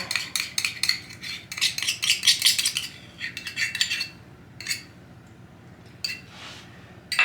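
Utensil scooping food from a container, a run of sharp scraping clinks and taps close by, denser in the first few seconds and then sparser with pauses.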